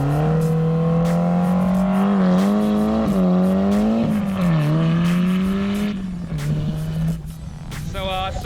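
A Subaru WRX rally car skids on bitumen, its engine revving loud and close with wavering pitch and sustained drive, easing off near the end as tires scrub.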